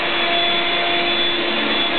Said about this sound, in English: You want your vacuum? Come on, let's see vacuum.